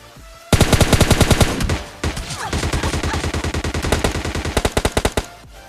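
Rapid automatic gunfire in the PUBG Mobile Lite shooting game, with long loud bursts of evenly spaced shots, a short gap, then more sustained firing ending in a few slower rounds.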